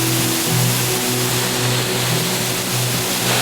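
The River Falloch rushing beside a hiking trail in the Scottish Highlands, a loud, steady broadband roar of flowing water close by, continuous with no pauses and no voices.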